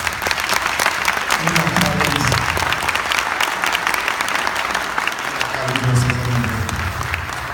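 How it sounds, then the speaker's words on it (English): A round of applause at a city council meeting in South Fulton: many people clap steadily and loudly for several seconds, with crowd murmurs and faint voices mixed under the clapping. "Let's give a round of applause."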